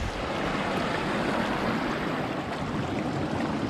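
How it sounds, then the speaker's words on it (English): Steady rushing water of a small mountain creek on the Spray Park Loop trail at Mount Rainier, Washington, a constant broadband wash with no pauses or voices. "Beautiful little creek."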